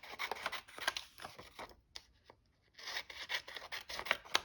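Scissors snip through gold paper trim at a crafting desk for a junk journal, a quick series of close, crisp cutting and rustling sounds with a brief quiet pause midway before the snipping resumes.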